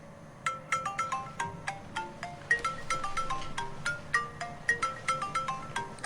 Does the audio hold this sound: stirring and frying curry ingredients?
no